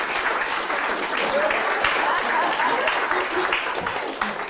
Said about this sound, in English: everybody give Leanne a round of applause